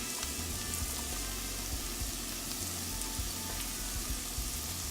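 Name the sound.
celery and onions sautéing in pan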